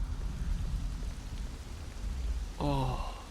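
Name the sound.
rain in the video game Devil May Cry 3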